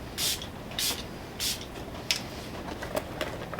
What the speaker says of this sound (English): I'm gonna start out with my Catrice Dewy Glow Fixing Spray.